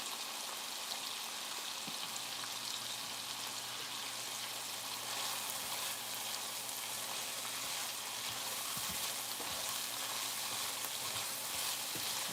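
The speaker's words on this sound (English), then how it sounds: "These microgreens are frying up so good" Steady, close sizzling fills the air, a constant hiss of microgreens frying in a hot pan with occasional faint clinks.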